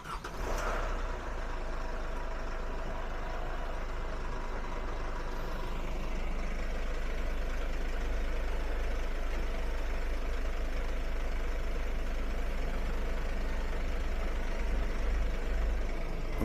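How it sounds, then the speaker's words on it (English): Mercedes Vito taxi idling, a steady low diesel engine rumble that holds constant for the whole stretch, close by with no talk over it. "you have to have the engine running for these to come in and out, so it's going to be a bit noisy"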